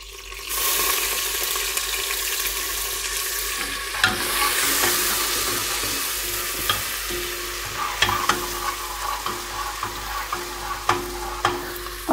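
Ginger and garlic hit hot oil with browned onions and whole spices for Shikarpuri gosht, a loud bright sizzle swelling up, then scraping stirs and sharp clinks of a spoon against the pan, close up with no talk.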